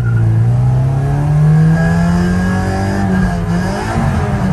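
A Honda Integra GSR with a B18C1 engine runs loud and close, its engine note rising and falling steadily through a continuous rev with no talking over it.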